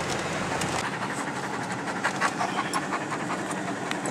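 A dog pants rapidly and steadily in the back of a car climbing a steep canyon road, close and continuous over a rattling, rumbling vehicle interior.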